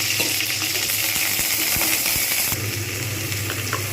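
Ginger-garlic paste sizzles and crackles loudly in hot oil with a splash of water added. The frying is close and continuous, with scattered pops and clinks, and it settles slightly partway through, with no talking.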